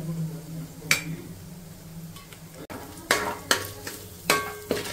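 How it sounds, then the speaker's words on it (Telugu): An egg fries with small carrot pieces in a pan for street-style chicken fried rice, a continuous close sizzle broken by several sharp metal spatula clinks and scrapes against the pan in the second half. "ఎగ్ ఫ్రై అయ్యే వరకు ఫ్రై చేసుకోవాలి."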